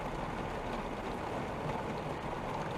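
Steady rain falls on a parked vehicle, a dense, even hiss that holds at the same level throughout with no talk.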